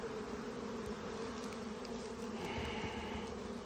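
Honeybees buzzing over an opened hive during a split, a low steady hum that stays even and fairly faint throughout, with no talking.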